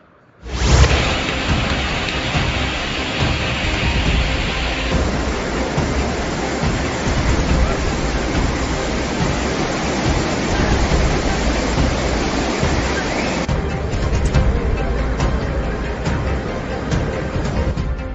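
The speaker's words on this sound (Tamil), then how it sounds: "கேரளா வயநாடு சூரல்மலை பகுதியில் மழை பெய்கிறது" Heavy southwest monsoon rain pouring down in Chooralmala, Wayanad, Kerala, a loud, dense and continuous roar of downpour on surfaces that holds steady throughout.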